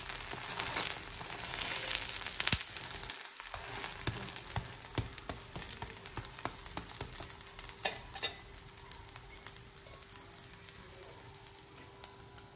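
Uttapam frying in a little oil in a pan: a steady, bright sizzle and crackle throughout, close and fairly loud, with occasional sharper pops and no talking.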